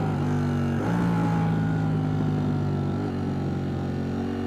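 A Ducati Streetfighter V4S sport motorcycle engine runs steadily and loud, its pitch rising as it accelerates, then shifts down briefly before climbing again.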